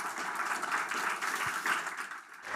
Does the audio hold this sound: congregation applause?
yes